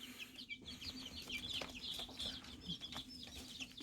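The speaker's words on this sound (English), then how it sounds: "we have some chickens we got about 2 or 3 weeks ago" Young leghorn and Americana chicks cluck and peep in a brooder, soft repeated calls overlapping close by with a faint steady hum beneath and no talk.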